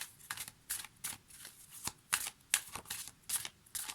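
A deck of oracle cards, the Message des plantes du monde deck, is shuffled by hand, soft rapid riffling swishes and card slaps repeating in quick irregular bursts, close and fairly quiet.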